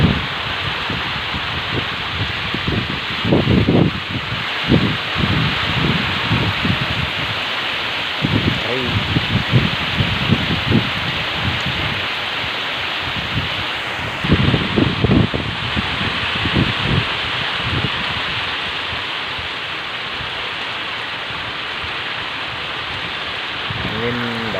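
Heavy rain with strong gusting wind from the south in Sobang, Bangkalan, a steady broadband wash of rain noise with louder bursts of rushing, buffeting wind at irregular intervals, close to the microphone.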